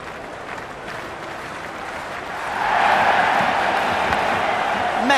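A cricket stadium crowd at a T20 match between England and India swells from a steady murmur into louder, sustained cheering and applause, a broad wash of massed noise with whoops rising in the second half.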